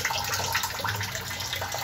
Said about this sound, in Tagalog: Ito po yung flow ng tubig niya